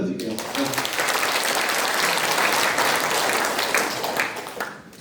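An audience claps loudly and continuously in a hall during a Webkey Cooper3 phone presentation. The dense applause holds for about five seconds before tapering off.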